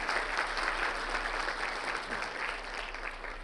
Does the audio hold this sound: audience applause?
yes